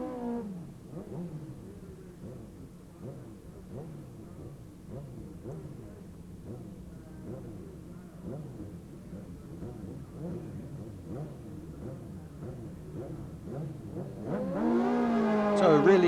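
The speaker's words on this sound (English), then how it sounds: "So a really close race here with bikes launching side by side, but Ian Dales takes the win." Two drag racing motorcycles launch side by side at a 1990 streetbike meeting at Blyton. Engines drone in a rapid, pulsing rev from a distance, then swell louder and climb sharply near the end.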